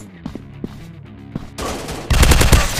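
Gunfire in the Android shooter FPS Robot Shooter Strike, a few scattered single shots and clicks, then dense rapid automatic bursts growing louder toward the end.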